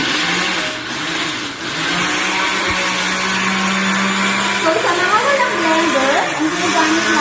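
A kitchen blender whirring steadily and loudly throughout, blending plant material for homemade plant care without added water, with speech over it.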